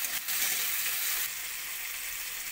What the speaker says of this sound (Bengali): পেঁয়াজের সঙ্গে টমেটোটাকে আমি ভালো করে ভেজে নেব।